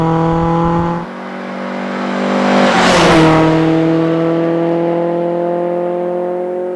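Fiat 131 Abarth Rally with a 16-valve engine and optional twin carburettors, revving loud and close, a harsh rasping drone climbing to a peak, then easing back while holding a steady high note.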